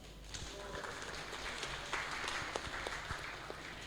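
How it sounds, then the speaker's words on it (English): Faint, steady applause from an audience at a Sunday Love Feast program, welcoming guest speaker Bhakta Nashvin Prabhu, with a few sharper individual claps standing out from the soft wash of hands. "A huge round of applause to him."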